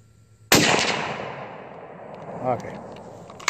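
SKS rifle firing Hornady ammunition outdoors, one sharp loud shot with a long echoing decay trailing away across the range, no talk.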